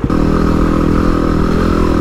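A motorcycle rides along a sand and mud track in the Otways, its engine running loud and close with a steady, throbbing mid-pitched drone and some clatter throughout.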